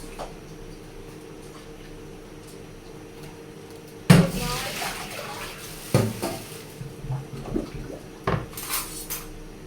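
Vegetables for blanching dropped into a pot, with a sudden clatter of pot and utensils, a second knock, then irregular splashy clinks and scraping near the microphone after a quiet stretch of low kitchen hum.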